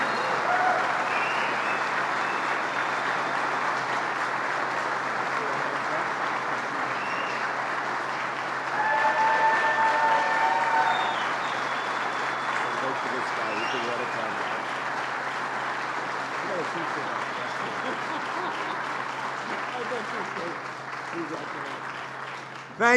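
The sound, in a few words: audience applause for Senator Schumer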